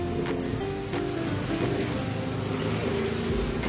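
Heavy rain pouring steadily near a house veranda in Assam, a dense continuous wash of noise with no talking.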